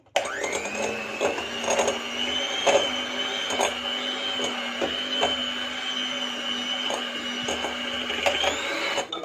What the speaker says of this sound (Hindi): अब मैं बीटर की मदद से इसे बीट कर लूँगी